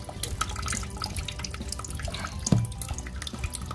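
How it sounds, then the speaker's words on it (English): Water from a toilet supply line trickles and splashes steadily just after a fill valve has been replaced and the shutoff turned off, with a brief louder splash midway and no talking. "water is still coming out of the supply line even though I got it turned off"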